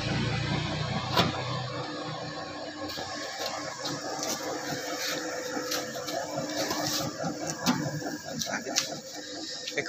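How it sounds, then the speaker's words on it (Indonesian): A small low-watt stainless donut dough mixer with a 1–3 kg flour capacity runs steadily up close, giving a continuous motor whir with faint clicks and rattles throughout. "Mixer adonan roti donat low watt."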